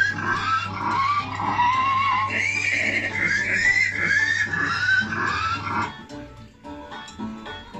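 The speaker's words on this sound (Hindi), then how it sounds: "घोड़ा भी आ गया" A horse whinnies with a long, wavering cry among chickens at an outdoor farm area of Gulliver's Kingdom, heard over a steady low hum and busy background noise before things quieten.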